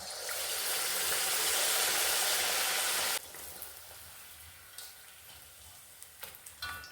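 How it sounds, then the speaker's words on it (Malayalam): A loud, dense sizzle of battered eggplant slices frying in hot oil cuts off abruptly, leaving a quieter crackle with scattered small pops and clicks. "ഇനി ഇത് തിളച്ച എണ്ണയിലേക്ക് അങ്ങ് ഇട്ട് കൊടുക്കണം"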